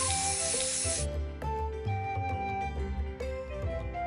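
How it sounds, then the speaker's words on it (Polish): Green hair-colour spray paint is sprayed onto a beard in a short, bright hiss lasting about a second, after which only background music carries on. "Pomaluj brodę zieloną farbą do włosów w sprayu."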